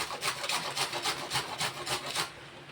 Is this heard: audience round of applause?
no